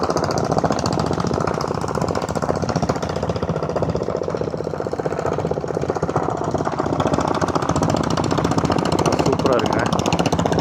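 A Diesel Bullet motorcycle with a 7.5 HP diesel engine chugs along in a rapid, steady knocking rhythm on a hill climb to Yercaud. The sound is loud and continuous, with someone talking over it.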